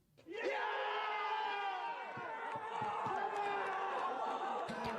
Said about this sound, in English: The crowd noises when we score a goal